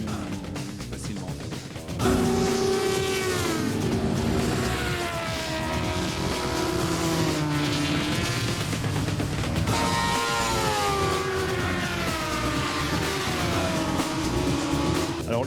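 Motorcycles lapping a race circuit, with a continuous loud engine whine that rises and falls as the bikes accelerate and pass, sustained over the whole stretch.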